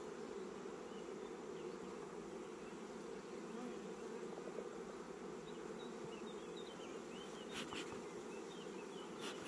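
Honeybees at an open hive in spring, a dense, steady droning hum filling the scene close by, with faint birdsong chirping in the distance and no voices.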